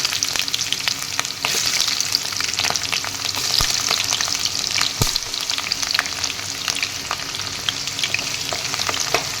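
Chopped onions with dry spices fry in 200 grams of hot oil in a kadai for duck curry, a dense, loud crackling sizzle with frequent sharp pops and occasional stirring scrapes.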